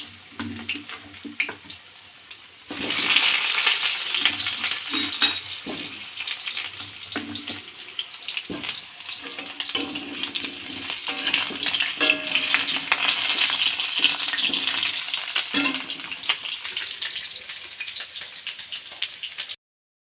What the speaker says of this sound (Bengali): আলু পেঁপেটা একটু ভেজে নিই।